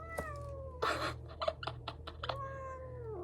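A calico cat meows several times up close, drawn-out calls separated by short clicks and rustles against a quiet background.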